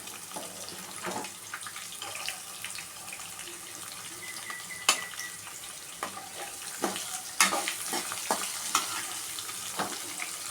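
Onions and curry leaves sauté in a pan for tomato rice, a steady hiss of frying with scattered spatula scrapes and taps against the pan at irregular intervals, close by, without speech.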